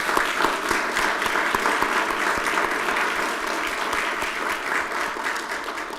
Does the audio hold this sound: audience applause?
yes